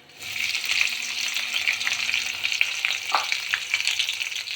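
Green chilies frying in hot oil with cumin and mustard seeds for Uttar Karnataka jhunka, a loud, steady crackling sizzle close by that continues throughout, with faint stirring scrapes.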